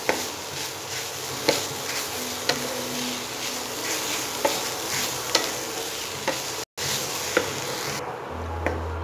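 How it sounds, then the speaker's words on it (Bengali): Chicken is stir-fried in a pan, a continuous close sizzle with regular light scrapes of a spatula stirring the pieces. "চিকেনটা কিন্তু এই পর্যায়ে কন্টিনিউ নাড়াচাড়া করে ফ্রাই করতে হবে"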